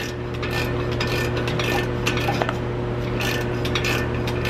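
Ratcheting clicks from a wrench loosening the clamp on an aftermarket Carven exhaust tip of a Ram Rebel pickup, a steady run of close mechanical pawl clicks over a constant low hum.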